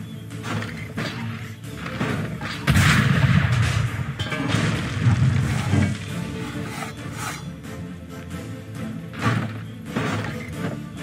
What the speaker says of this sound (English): Help me load the cannon!